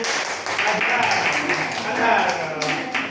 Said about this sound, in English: So, give a applause to